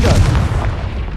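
A Confringo spell blast goes off in the Hogwarts Legacy video game, a loud, dense booming burst with heavy low rumble that stays sustained across the whole short moment without a clear gap.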